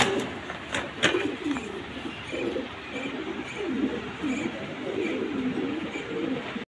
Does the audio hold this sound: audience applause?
no